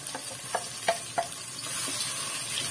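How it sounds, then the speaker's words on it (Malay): Blended spice paste for soto ayam sizzles in hot oil in a pan, with a steady frying hiss and a few soft scraping stirs of a spatula, close and fairly quiet. "kita tumis sampai dia pecah minyak ya kawan-kawan"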